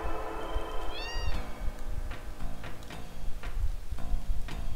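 A cat meows once, a clear rising-and-falling call near the start, over steady background hum and scattered clicks from a Final Fantasy VII game session.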